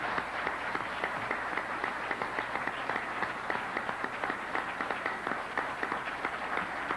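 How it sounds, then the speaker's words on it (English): Steady applause fills an indoor hall at a 1998 sports hall of fame induction evening, many hands clapping continuously at moderate volume from a crowd, with no talk heard. "I'd like you to raise your hands in applause for Tommy Sweet"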